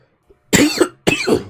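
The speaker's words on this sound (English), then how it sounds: "Sorry for the cough." Two harsh, close coughs in quick succession after a brief quiet moment, loud and alone.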